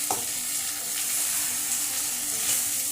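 Tomato pieces frying with potatoes in a pan, a loud, steady close sizzle with light stirring throughout.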